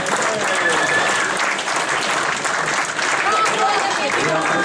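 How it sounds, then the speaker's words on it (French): Dinner guests at a February supper applaud loudly and continuously, a dense, even roar of many hands clapping close by with no break. "Alors, on va donner l'applaudissement pour"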